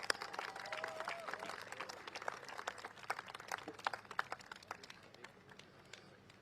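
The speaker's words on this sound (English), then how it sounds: "Can we give him another round of applause" Crowd applause at a Red Dot United political rally for Holland-Bukit Timah GRC, held at a School of Science and Technology, a fairly distant, moderately quiet round of clapping, with a voice briefly audible over it.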